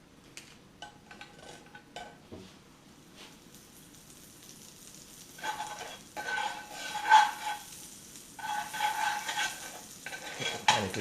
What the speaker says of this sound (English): Get the pan a good coating with the butter